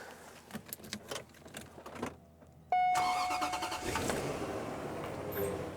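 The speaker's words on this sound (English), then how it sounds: "The engine still works, yes." Some mechanical clicks and clunks, then a German car's engine cranks and catches, settling into a steady idle, close by.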